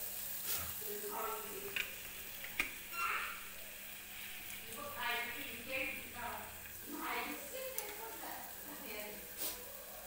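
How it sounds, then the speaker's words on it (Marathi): Tomatoes roast in a pan for a spicy chakolya dish, giving a steady soft sizzle with scattered crackles and light scraping, while a person talks over it. "भाजून घ्यायचं आहे टोमॅटो आपल्याला"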